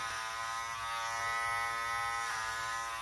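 Andis electric hair clippers buzz steadily and close up while cutting a fade on textured hair, a constant hum with slight shifts in pitch as the blade moves.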